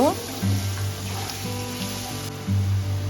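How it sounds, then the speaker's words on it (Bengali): Beans and grated carrot sizzle steadily in a frying pan, a continuous close crackle with a low hum underneath and no talking. "গাজরটাও দিয়ে দেব আরও এক দু মিনিট একটু ভেজে নেব"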